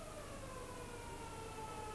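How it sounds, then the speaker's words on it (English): A racecourse siren wails before a public announcement at a horse race meeting in Victoria, a faint, distant sustained tone heard through crowd-like background hiss. "There's the siren, there's the announcement."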